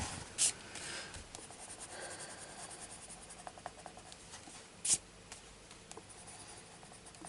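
Pastel pencils scratch and rub across Mythographic colouring paper in a steady, close, quiet scraping texture, with two brief louder swipes and faint tapping, no talking.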